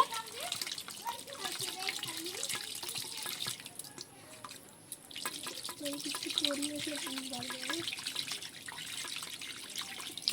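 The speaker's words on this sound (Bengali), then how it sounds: "ছানাটা এবারে ভালোভাবে ধুয়ে নেব" Chhena (cottage cheese) being washed under running water on a cotton cloth in a home kitchen, with a faint tap trickle and splashes while a child and an adult talk quietly nearby.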